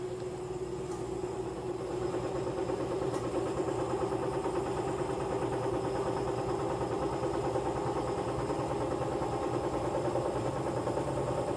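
A front-load washing machine drum spins at around 400 RPM, giving a steady droning motor hum with a faint rhythmic churn, continuous and moderately quiet with no talking.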